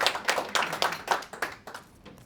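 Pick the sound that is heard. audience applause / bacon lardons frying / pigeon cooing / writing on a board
audience applause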